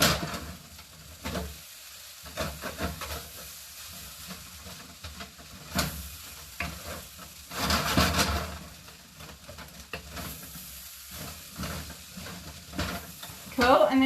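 Rice and vegetables stir-fried in a hot pan for tangy fried rice, with a steady sizzle under repeated scraping and stirring strokes, loud and close, plus a brief burst of hissing steam midway.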